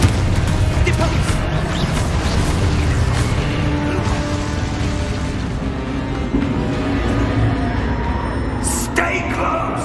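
Booming spell blasts and explosions from Hogwarts Legacy, heavy and continuous with echoing rumble under a busy battle mix, as a voice shouts spell incantations.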